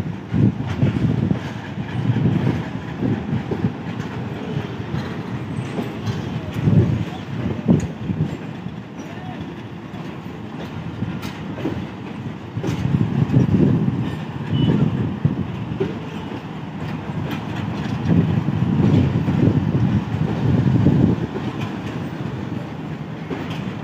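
An A30 locomotive works through Multan Cantonment railway station, with loud rumbling wheels and clattering railcars rising and falling over the whole stretch, close by and continuous.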